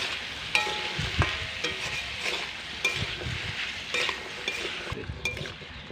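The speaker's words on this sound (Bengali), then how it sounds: "সমস্তটা খুব সুন্দর করে নাড়াচাড়া করে মিশিয়ে নিচ্ছি।" Fish head and pumpkin pieces with turmeric, chili powder and salt are stirred in a sizzling pan, soft frying crackle under irregular scrapes and clinks of a spatula against the pan, close up.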